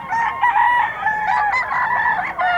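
A hatch gray gamecock rooster crowing loudly and close at a busy rooster market in Bocaue, one long sustained crow filling the whole moment.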